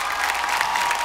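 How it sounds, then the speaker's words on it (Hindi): An audience at a Hindi kavi sammelan poetry show claps steadily in a dense, continuous burst of applause, loud and close, with no break across the moment. "तालियां हमारे आज के चारों धुरंधर परफॉर्मर्स के लिए"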